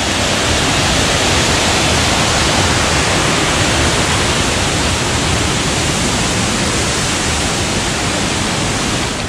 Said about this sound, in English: May waterfall sila dito